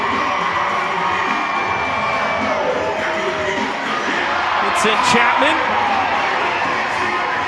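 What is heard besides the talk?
stadium crowd cheering at baseball game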